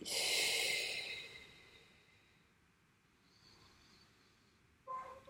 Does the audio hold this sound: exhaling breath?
yes